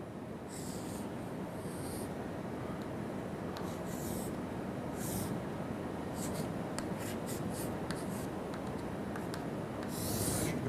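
Pen or chalk strokes of someone hand-drawing a diagram, a steady scratchy rubbing with short bursts of quicker marks, close and fairly loud over a constant background hiss.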